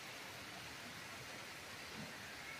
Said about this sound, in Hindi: आज देखिए बारिश इतना अच्छा से पड़ रहा है